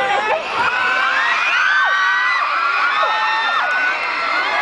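A dense crowd of fans at a celebrity event screams and cheers continuously, with high shrieks and whoops layered over one another, loud and close throughout.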